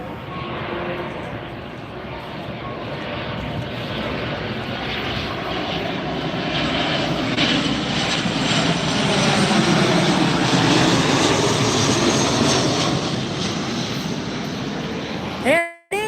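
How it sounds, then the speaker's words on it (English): Southwest Airlines jet in the Freedom One special livery arriving at Tampa Airport, a loud sustained engine roar that swells as it passes nearby and then fades, ending in a brief handling rumble, without talk. "Got another plane coming in behind me"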